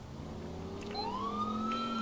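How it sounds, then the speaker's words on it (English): Police car siren from the video game GTA IV, a rising wail that climbs and holds steady over a low engine-like rumble, fairly loud and close with no talking. "I got lights and sirens on."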